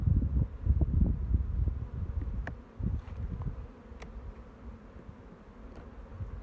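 Honey bees buzzing as a hive is opened and worked frame by frame on a cool early spring day, a low, dense hum that swells and fades, close to the microphone, with faint handling knocks.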